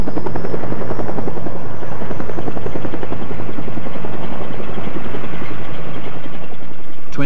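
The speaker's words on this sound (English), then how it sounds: "the chopper heads out over the glacier." A helicopter flying out over Greenland's Humboldt glacier, its rotor and engine roaring loud and steady at close range with a constant thudding chop, no voices.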